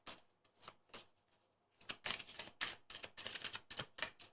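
Rapid papery riffling bursts of tarot cards being shuffled, a few short flicks followed by a longer run of quick rhythmic shuffles, close and fairly quiet.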